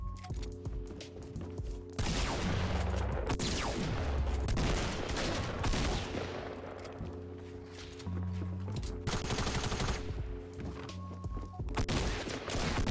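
Sniper rifles fire in a Fortnite Battle Royale match, with dense bursts of gunshots and rapid volleys over game sound effects and tonal music, loud and continuous throughout.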